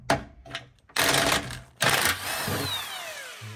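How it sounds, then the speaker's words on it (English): A ratchet with a 15mm socket removes bolts on a 2003 Chevy Silverado during rack and pinion work, with short bursts of rapid clicking separated by pauses, loud and close. "For this, I'm going to be using a 15mm socket."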